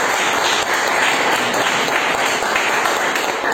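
An audience claps together in a steady, dense burst of applause that stays loud throughout.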